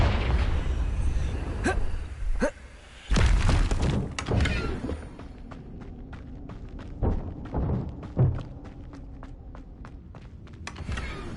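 A Confringo blasting spell cast in Hogwarts Legacy on PlayStation 4 Pro lands as loud booming bursts, with a big blast early and another a second later, followed by lighter thuds and scattered clicks over a low rumble.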